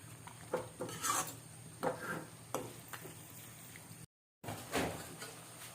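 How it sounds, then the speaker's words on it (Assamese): Mutton being stirred and mixed in a cooking pot, with a series of scraping, rasping strokes of a spoon against metal, quiet and close, spaced irregularly with a brief silence near the end. "এতিয়া মাংসখিনি তাই মিক্স কৰি আছে"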